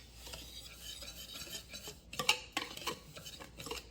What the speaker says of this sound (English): I'm going to use a whisk to combine.